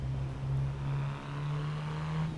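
A Ford Escort engine in a racing video game hums at steady, moderate revs, with a smooth low tone that holds throughout.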